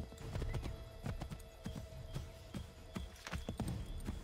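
Horse hoofbeats from Assassin's Creed 3 Remastered, a steady clip-clop gallop of repeated sharp thuds across the whole stretch, close and prominent over a busy game soundscape with no talk.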